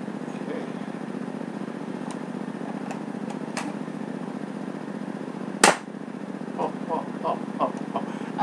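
An AT2K airsoft gun on a freshly repaired air system fires a few sharp pneumatic shots, one much louder crack near the end, over a steady background hum.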